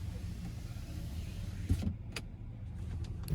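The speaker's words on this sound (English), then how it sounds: "Sliding rear window." Power sliding rear window on a 2018 Ram 1500 Night Edition pickup, a faint low motor hum running quietly in the cab, punctuated by a couple of soft clicks as the glass moves and stops.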